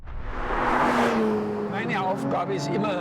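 A Porsche 911 GT3 with Touring Package drives on a country road, its engine a loud steady drone that rises in pitch and holds on, with tyre and road noise and a voice talking over it.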